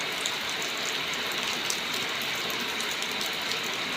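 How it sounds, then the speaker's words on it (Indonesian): Steady, dense rain pours down in a village under overcast skies, a continuous even hiss with no pauses or voices. "Suasanane mendung terus, hujan turun,"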